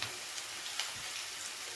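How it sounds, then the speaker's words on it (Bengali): Crushed garlic cloves and two dried red chillies frying in hot oil for Bengali red spinach, a soft steady crackling sizzle with small pops, faint and close, with no voices. "এবারে খুব ভালো করে একটু নেড়ে চেড়ে রসুন আর শুকনো লঙ্কাটাকে ভেজে নেব"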